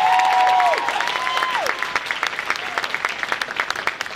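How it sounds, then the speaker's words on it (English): Applause for a band from a crowd, a brief steady tone sounding over the first claps before the clapping thins out toward the end. "Give a round of applause for the band"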